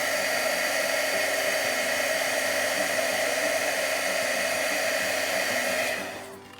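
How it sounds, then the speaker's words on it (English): A heat gun melts embossing powder on a handmade Christmas card, giving a steady, loud blowing whoosh that runs unbroken for several seconds and then cuts off near the end. "Heat gun is heated up now, so it's embossing quite a bit faster."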